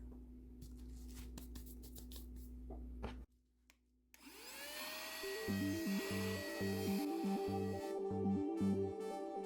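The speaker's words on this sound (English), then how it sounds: "This is a very gentle vacuum cleaner. The suction is low." A small vacuum cleaner hums, briefly cuts out, then whines back up with a pulsing, rhythmic buzz; no talking.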